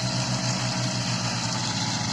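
A Kubota tractor pulling a rotavator earths up soil in a sugarcane field, its engine holding a steady, close, low drone with a constant mechanical hum and no talking.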